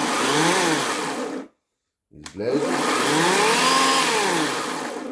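An Einhell GE-LC 18/25 cordless chainsaw runs with a steady electric whine that rises and falls in pitch, stops abruptly for about half a second, then restarts and runs on loudly.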